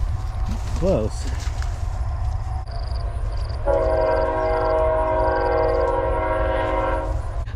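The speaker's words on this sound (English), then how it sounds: "yesterday we got quite a treat as the, I guess it was the largest steam engine in the world traveled" The world's largest steam engine train rolls past a ranch near the railroad tracks, its horn sounding in long sustained blasts over a steady rumble, with brief voice-like sounds early on.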